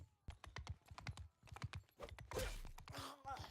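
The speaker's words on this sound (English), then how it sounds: "Steady the horse." Horse hooves clip-clopping in Mount & Blade II: Bannerlord, a quick, steady run of close hoofbeats followed by a burst of louder combat noise, with no talking.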